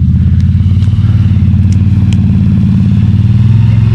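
Can-Am off-road vehicle cruising past during a 4x4 mudding outing, a loud close, throbbing low engine rumble with steady rhythmic pulsing and light clatter throughout.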